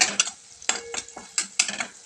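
A spoon stirring turmeric and coriander powder in a pan for garlic spinach curry: a handful of sharp metallic clinks and scrapes at an irregular rhythm, close and fairly crisp, with only a faint sizzle in the quiet gaps.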